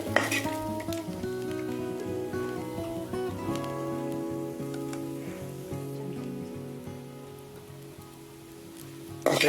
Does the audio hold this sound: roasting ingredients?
yes